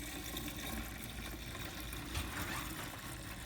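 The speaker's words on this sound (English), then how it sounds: "Now it's time to pour, not make a mess. Let's see, let's fill it up." Washer fluid pours into the reservoir of a Lincoln Town Car, a faint continuous trickle and splash against a low engine idle hum, with no voices.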